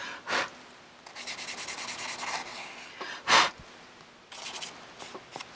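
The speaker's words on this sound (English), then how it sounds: "I keep forgetting to use my embossing thing." An embossing tool rubs across vellum paper in short and long scraping strokes, close and dry, with separate louder breathy swipes between them.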